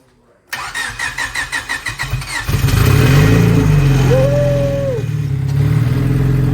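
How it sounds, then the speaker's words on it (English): Race motorcycle at a PFI team's track pit, freshly rebuilt after a blown motor, cranks with a rapid rhythmic starter chug, then fires and revs loudly before settling into a rough idle, very close with no talk. "Prime it again."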